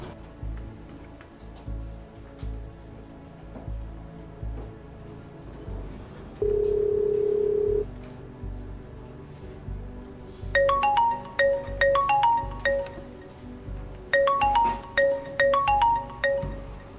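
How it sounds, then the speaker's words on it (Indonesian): A phone call is placed, with a steady dial tone followed by two rapid bursts of keypad dialing beeps, all close and clear over faint background ticking, with no speech. "Bentar deh, gue telepon dulu."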